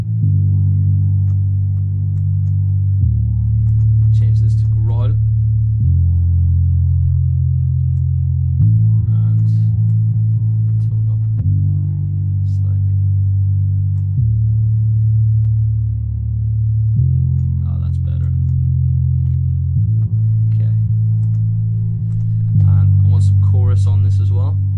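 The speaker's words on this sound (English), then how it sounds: "So what I'm going to do is add some distortion. I'm going to go to Logic's distortion 2." A distorted bass synth runs through Logic's Distortion II in growl mode for a liquid drum and bass track, playing a steady sequence of sustained low notes that shift pitch every few seconds, thick and gritty, with brief higher squelches on top.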